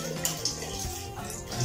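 Water poured into a pot for boiling bulalo, a close, splashing, gurgling stream that runs steadily for a moment with small bubbling bursts.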